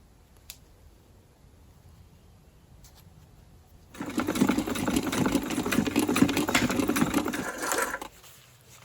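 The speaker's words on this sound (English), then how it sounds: "I'm just going to sew over it and hope for the best." Sewing machine stitching over a zip seam on ecoprinted cotton for a mini skirt waistband, a quiet start and then a steady fast mechanical whirr running for about four seconds before stopping.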